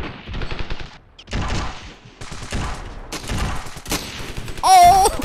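Gunfire from the Ravenfield shooter game crackles in repeated bursts and volleys across the clip, loud and dense, with a sharper electronic effect near the end.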